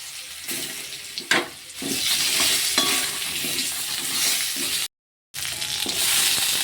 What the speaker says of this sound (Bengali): আলু কচুগুলো ভালো করে ভেজে নেব।